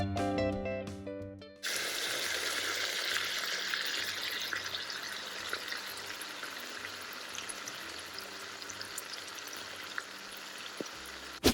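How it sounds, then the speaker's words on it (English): Burger patties fry on a griddle with a steady, broad, hissing sizzle that holds evenly for several seconds after a short bit of music at the start. "While the patties are cooking"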